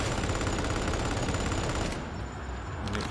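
A braced autogun in the video game Darktide fires in a loud, dense, unbroken stream of rapid shots, a harsh close burst that briefly eases and then resumes near the end.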